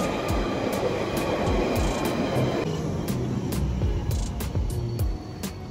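A train rumbles past at a station in Mexico with steady rolling noise and rhythmic clacks of wheels over rail joints, moderately loud and continuous.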